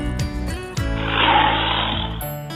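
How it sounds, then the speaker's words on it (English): A lion's roar swells in as a loud, rough, drawn-out burst lasting over a second, sounding over a bouncy musical backing with plucked notes. "Lion begins with L."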